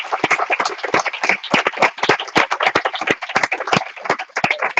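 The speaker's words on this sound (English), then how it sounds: "Please give a big round of applause to Swami" A small audience claps for Swami at a Ram Katha gathering, with sharp individual hand claps in a quick, uneven patter that stays close and fairly loud throughout.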